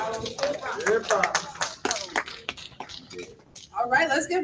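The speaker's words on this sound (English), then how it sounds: "We're not just clapping for him, we're clapping for our ancestors" An audience claps steadily at a morning gathering of roots music and ring shouts, the applause running throughout beneath voices talking over it.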